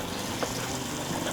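Cold water tap running inside a Winnebago View RV, a steady close hiss of flowing water filling the space with no break, no voices.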